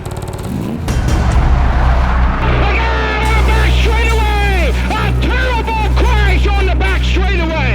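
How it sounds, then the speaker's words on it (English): An orange number 34 race car accelerates hard toward 100 miles an hour. Its engine roar holds steady with rising whines over a deep drone, while a commentator talks over it. "Wood in the orange car accelerates to 100 miles an hour"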